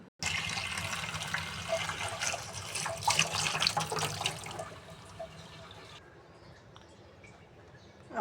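Tap water runs steadily over peeled pointed gourds being washed in a sink, a loud, continuous splashing rush that cuts off abruptly, leaving only a faint room hiss.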